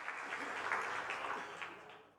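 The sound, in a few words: audience applause at a stand-up comedy show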